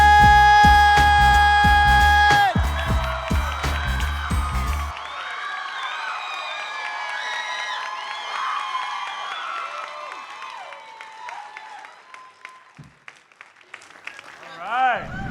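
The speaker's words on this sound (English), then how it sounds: "Please, everybody, give a huge round of applause for Keith David!" A convention crowd at Tampa Bay Comic Convention erupts in loud applause, whoops and cheering for actor Keith David, starting as music ends, then thinning into scattered clapping and shouts across the hall.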